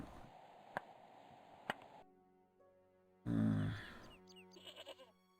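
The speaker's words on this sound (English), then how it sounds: "Can't do anything with the goat." Goat bleating in the Broken Sword adventure game, a few wavering bleats near the end following a low rumbling burst and two earlier sharp ticks over a steady background hum.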